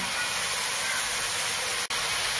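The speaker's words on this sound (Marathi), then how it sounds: "टोमॅटो एक 2 मिनिटं भाजून घेऊया" Chopped tomatoes roast in a hot pan for tava paneer masala, giving a steady, close, hissing sizzle that fills the whole moment with one brief dropout.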